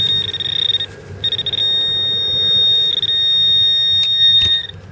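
A metal detector sweeping outdoors gives a steady high electronic tone for a ferrous target, sounding in several long bursts with short gaps, loud and close over faint background hiss.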